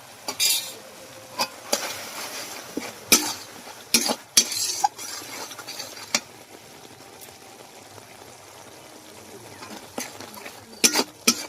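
A spice mix with bottle gourd, salt and Kashmiri chilli powder being sautéed in a pan, a soft low sizzle under repeated spatula scrapes and clanks that come in bursts with quieter stretches between.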